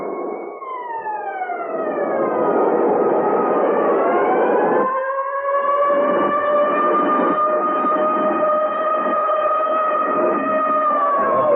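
Several sirens wail together, their pitches sliding up and down, loud and sustained throughout with no talking.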